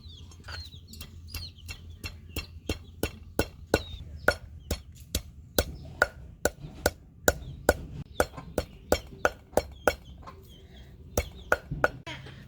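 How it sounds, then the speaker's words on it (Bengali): Dried loitta fish pounded on a grinding stone, a steady series of sharp, close thuds repeating about twice a second, with faint background sounds between strikes. "এখন পাটা একটু ছেঁচা নিব।"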